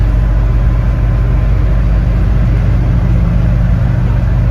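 Land Rover Defender Td5 diesel engine pulling steadily on the road at speed, a constant loud low drone and road roar filling the cabin.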